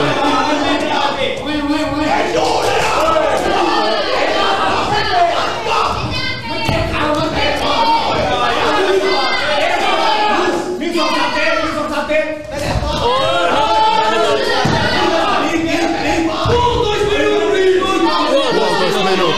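A dense, loud crowd roars and shouts continuously, with voices yelling over one another and occasional thuds in the din.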